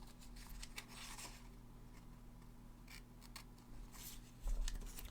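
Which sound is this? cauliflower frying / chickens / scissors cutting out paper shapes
scissors cutting out paper shapes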